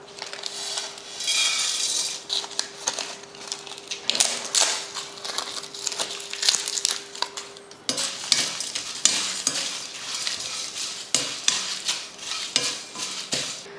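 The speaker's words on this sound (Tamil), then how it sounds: "அடுத்ததாக நம்ம எடுத்து வச்சுருக்க ஸ்பைசஸ் எல்லாம் போட்டு வறுத்துக்கலாம்." Whole spices dry-roast in a pan, stirred continuously with a utensil that produces rapid rattling, scraping and clinking close up, in uneven bursts, with no voices.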